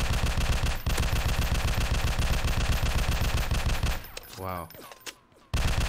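In an iPad shooting game, loud, rapid automatic gunfire hammers away steadily for about four seconds, then stops; a short exclamation and some game sounds follow.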